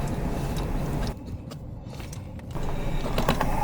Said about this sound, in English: The pry bar, aka socket wrench, had to come back into play so I could tighten up the connection.